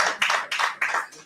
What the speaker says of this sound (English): So let's give the Dean of Law School a big round of applause.